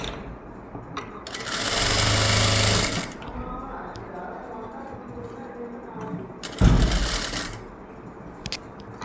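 A sewing machine double-stitches the synthetic lining of a blouse in two loud mechanical bursts, the first about two seconds long and the second shorter, with someone speaking between and around them.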